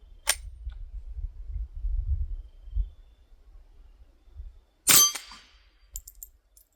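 A Winchester Model 1890 rifle firing .22 Short rounds: one sharp report near the start and a louder crack later, with quiet rumble between and a faint click after.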